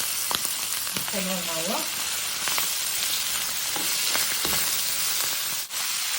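Shrimp frying in a pan for a filling, a steady loud sizzle with crackling pops and brief utensil clinks, a short spoken phrase partway through.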